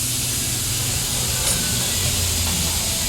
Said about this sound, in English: Put some lubricant on my seal.